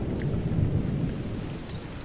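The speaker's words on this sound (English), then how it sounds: "sometimes filled with a thunderstorm, with zigzag lightning flashing" Thunderstorm sound effect: a deep rolling thunder rumble over a steady wash of rain, loud and continuous, with no talk.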